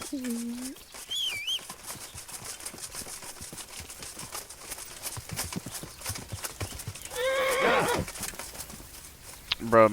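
In the medieval game Kingdom Come: Deliverance, a horse whinnies and neighs loudly, with hoof clip-clops, a busy outdoor game soundscape and people talking, and a final neigh near the end.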